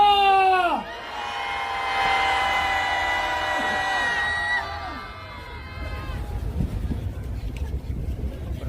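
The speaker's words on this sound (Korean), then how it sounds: "다 같이 힘차게 주탄의 함성을 들려보도록 하겠습니다" A street rally crowd near Gyeongbokgung Station shouts and cheers together for the impeachment of the acting president, a loud, sustained unison roar of voices that fades after about six seconds into wind noise and scattered crowd sound.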